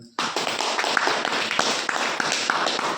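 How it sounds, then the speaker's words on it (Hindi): Hearty clapping from an audience at a home meeting, breaking out suddenly and continuing as a steady, dense patter of many hands, loud and close throughout. "तो एक जोरदार ताली"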